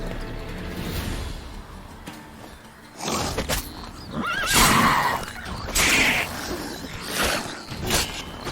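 A horse in The Witcher 3: Wild Hunt gives several loud, close whinnies and neighs over the second half, with faint hoof clip-clop and game ambience beneath and no talking.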